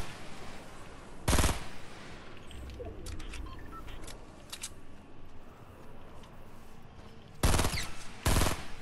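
Video game gunfire in Fortnite: loud bursts of rapid shots crack near the start and again twice near the end, with fainter scattered shots and clicks in between, no speech.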